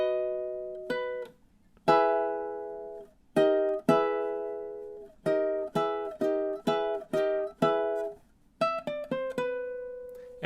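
Measures 13 to 15 of the Luigi's Mansion main theme played on ukulele: crisp plucked notes and short strummed chords in a bouncy, halting rhythm with brief pauses, close and clear, with no talking.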